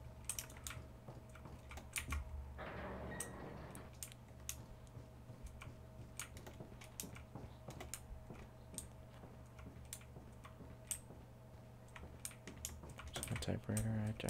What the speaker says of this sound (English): Typewriter, I just had to save.